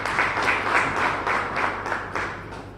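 Audience applause at the launch of Mokopane Community Radio Station, a short, full burst of crowd clapping with a rapid pulsing rhythm that tapers off slightly toward the end.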